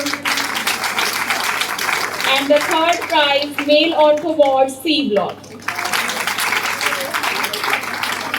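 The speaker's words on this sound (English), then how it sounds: "Kindly give a big round of applause for them." Sustained audience applause for ward prize winners at an International Nurses Week celebration at a hospital in Chandigarh. The clapping fills the room, drops away while a man announces over the loudspeaker, then swells back steadily.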